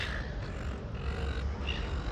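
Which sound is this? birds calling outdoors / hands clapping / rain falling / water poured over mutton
birds calling outdoors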